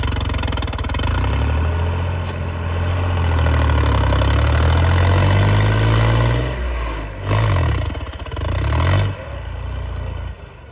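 A bulldozer engine roars loudly and steadily during stunt driving, its heavy rumble rising and falling in pitch as the throttle changes, with a few brief dips and surges near the end.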